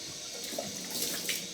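Cold tap water runs and splashes close by as it is cupped onto a face at a sink, a steady hiss with brief wet slaps and no talk.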